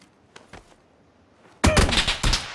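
Gunfire in the battle-royale shooter PUBG: a few faint, distant shots early on, then loud, close rapid bursts cracking in quick succession.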